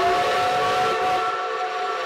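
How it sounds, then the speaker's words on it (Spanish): A long, steady, loud steam whistle blows from a restored vintage steam locomotive pulling restored wooden coaches, holding one sustained tone throughout with no talk. "Con su locomotora a vapor y sus coches de madera restaurados, es la viva imagen de otra época"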